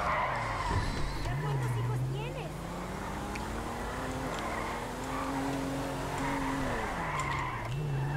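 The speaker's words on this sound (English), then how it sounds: "power slide" A car power-slides with a long, loud tire skid in GTA V, the squeal wavering in pitch over a steady engine drone for several seconds, mixed with game sounds and no clear talk.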